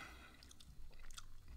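Someone chews a bite of fried cheap steak up close, with soft wet mastication and squishy mouth sounds over about a second and a half.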